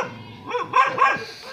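A dog barks twice in quick succession at a rural nipa hut in San Juan, Batangas, sharp and fairly close, with no talk over it.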